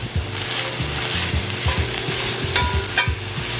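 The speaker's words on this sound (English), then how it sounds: "Alright, so my ground turkey is about done." Ground turkey frying in a pan: a steady, close sizzle under repeated dull thumps and scrapes as the meat is stirred and broken up.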